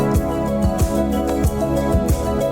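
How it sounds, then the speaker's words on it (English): The response riff from the arrangement of a song repeats in a steady, loud, rhythmic pattern of bright plucked notes over full, sustained backing. "is this little do-do-do-do-do business that sounds like this."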